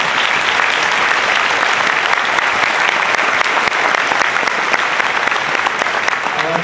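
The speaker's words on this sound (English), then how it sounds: "I just want to give them a round of applause" Loud, dense applause fills a medical school white coat ceremony, many hands clapping steadily and evenly throughout with no break.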